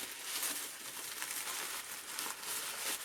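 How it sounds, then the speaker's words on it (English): Packaging paper crinkling and rustling during the unboxing of a Disneyland Paris purchase, a soft, continuous papery crackle heard close up with no talk. "rustling"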